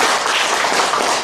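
Church congregation applauding, a dense, steady wash of clapping throughout.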